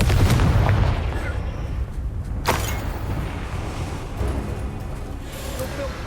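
Booming blast of the Confringo fire spell in Hogwarts Legacy, with a loud rumbling explosion at the start fading into a low roar and a sharper crack a couple of seconds later, over continuous game ambience.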